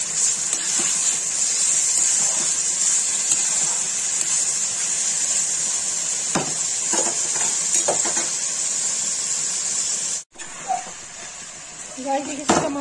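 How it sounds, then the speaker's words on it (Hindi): Onions with salt and garam masala stirred in a pan for a creamy chicken curry, with a steady sizzle and occasional scrapes and clinks of the spoon against the metal, plus a brief break near the end. "नमक सब कुछ, गरम मसाले से चलाते रहेंगे, नीचे ना लगे"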